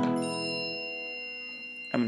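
A phone notification ding rings out clearly and decays slowly as a sustained bell-like tone, followed by a second strike near the end.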